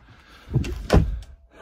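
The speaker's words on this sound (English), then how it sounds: "Better close that door because it's about to get loud for a minute." An indoor door pushed shut in an office building, a soft thud near 0.55 s followed by a louder, heavier thunk near 0.95 s, then a faint tap, with no talking.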